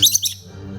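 A pet bird gives a quick, bright chirp up close, a couple of sharp high notes followed by a low room hum.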